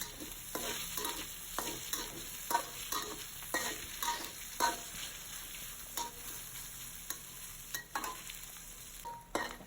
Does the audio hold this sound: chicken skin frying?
yes